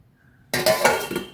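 A lid set onto a cooking pot of black urad dal kali on the stove, a sudden metallic clatter and ringing clink followed by a short rattle as it settles.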